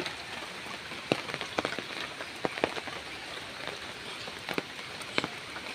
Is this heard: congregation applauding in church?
no